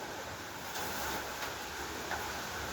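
Wind blowing outdoors, a constant broad roar buffeting the microphone with a few stronger gusts, loud and unbroken throughout.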